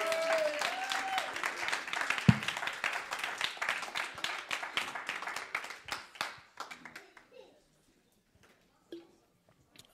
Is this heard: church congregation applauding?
yes